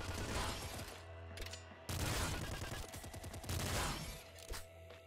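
Rapid bursts of gunfire from the Super Splinter Gun in the video game Nuclear Throne, loud crackling volleys with a short break before another heavy barrage, over a constant low game hum.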